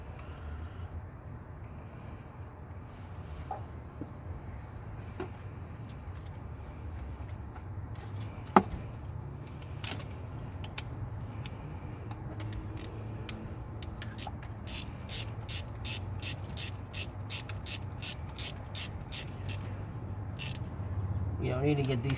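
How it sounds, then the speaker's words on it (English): Ratchet wrench tightening a spark plug back into an engine: faint, scattered clicks at first, then a steady run of quick, close metallic ratcheting clicks toward the end over a low background hum. "We're going to put the spark plug back in and install it."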